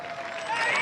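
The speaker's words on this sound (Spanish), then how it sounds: "Aplausos, entonces." Brief, steady crowd applause, a dense wash of clapping that swells slightly toward the end.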